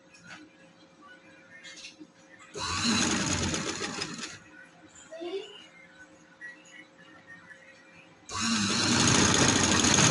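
A sewing machine stitches trouser fabric in two loud, fast bursts of running, separated by a quieter pause with faint handling and a brief voice.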